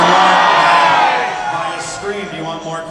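A convention panel audience at Connecticon 2014 cheers and whoops loudly and close, at full strength at first and then easing off into scattered shouts.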